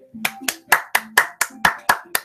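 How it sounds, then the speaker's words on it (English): Eight or nine sharp, evenly spaced hand claps ring out close and clear, a lone person clapping steadily without any talk. "I'm the first to start applauding."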